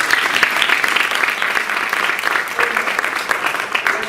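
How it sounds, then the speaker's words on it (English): Audience applause at a historical research project presentation, a steady, dense wash of many hands clapping for the full few seconds, fairly close and even in loudness, with no voices standing out. "can we get a round of applause for my colleagues, Jacob Battle"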